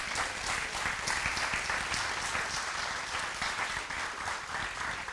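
Congregation applause at a Portuguese-language church sermon, a steady, dense wash of many hands clapping together at moderate volume, sustained evenly for several seconds without voices.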